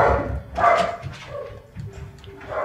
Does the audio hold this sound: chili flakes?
no